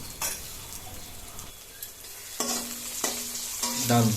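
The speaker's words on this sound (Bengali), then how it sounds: "চলুন তাহলে আমরা আস্তে আস্তে বেগুনগুলো ভেজে নিই" Eggplant slices frying in hot oil for a vegetarian khichuri meal, a steady crackling sizzle with a few utensil scrapes and clinks against the pan, close and fairly loud throughout.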